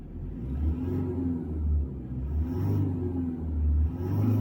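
Car accelerating hard during a 0–100 speed run: a low engine rumble that swells and rises in surges over a few seconds, close and steady, with no talk.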